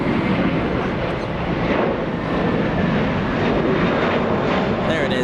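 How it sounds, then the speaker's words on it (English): A JetBlue Airbus A321 taking off from Los Angeles International Airport, a continuous broad jet roar heard from a distance with wind buffeting, steady throughout. "There it is, JetBlue flight 624. That was an A321."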